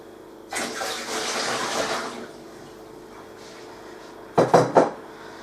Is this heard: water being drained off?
yes